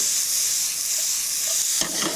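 Onions sizzle loudly on top of extra virgin olive oil in a hot pan, a close, constant hiss with a brief stir near the end.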